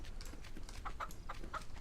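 Chickens cluck in the survival game DayZ on the Chernarus map, a few short mid-pitched clucks spaced through the clip over a steady background hiss, fairly faint.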